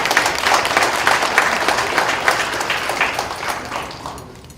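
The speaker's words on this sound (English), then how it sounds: "So everybody give him a round of applause." An audience at a school board meeting claps together, loud at first and then gradually thinning and fading toward the end, with no speech over it.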